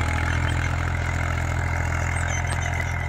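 An Eicher 333 tractor engine idles steadily nearby, a low rhythmic rumble with no voices.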